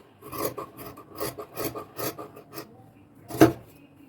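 Scissors cut through blouse sleeve fabric in a run of close, rhythmic rasping snips, followed by a pause and then one louder, sharper cut near the end.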